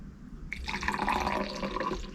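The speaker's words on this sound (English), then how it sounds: "now it's ready, and I'm gonna pour it into my cup" Mexican hot chocolate poured into a cup, a close liquid stream that starts abruptly and gurgles steadily for a second or two.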